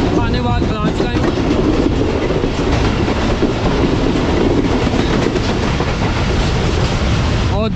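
Shalimar Express passenger train approaching Sangla Hill Junction station in winter, loud rolling rumble with rhythmic wheel clatter on the rails and some metallic ringing early on, heard close by without interruption.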